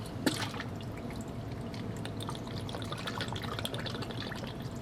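Bar sweet and sour mix pours into a glass for a bourbon sour, a soft steady liquid stream with light dripping, faint and close.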